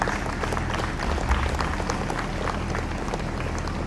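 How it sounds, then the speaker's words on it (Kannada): Standing audience applause for the organisers at a catering owners' association inauguration in Udupi, a steady wash of many hands clapping at moderate volume from start to finish. "ಈ ವ್ಯಕ್ತಿಗಳನ್ನು ಚಪ್ಪಾಳೆ ಮೂಲಕ ಅಭಿನಂದನೆ ಸಲ್ಲಿಸೋಣ"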